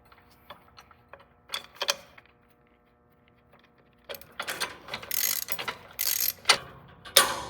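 A hand ratchet clicks in short bursts while tightening parts on a Scag mower, a few sparse clicks at first, then a quiet gap, then louder, rapid ratcheting strokes close by.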